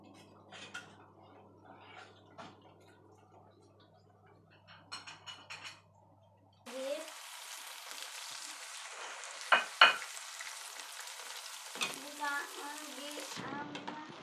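Small kova fish fry in hot oil for about three minutes, a steady loud sizzle and crackle that starts abruptly partway through after quieter kitchen clatter, with occasional sharper pops.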